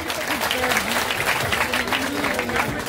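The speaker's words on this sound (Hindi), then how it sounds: "एक दफा जोरदार ताली मिले" A crowd at a union rally applauds to welcome a speaker, a loud, continuous roar of clapping throughout, with a voice speaking faintly beneath it.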